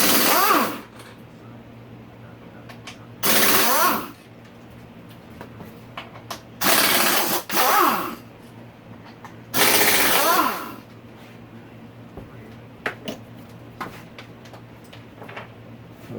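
Ratchet work on the subframe bolts of a Honda CRF250R during a top-end rebuild: several short bursts of fast, close clicking, separated by pauses with faint handling noises and a low background hum.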